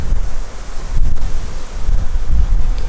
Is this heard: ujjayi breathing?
no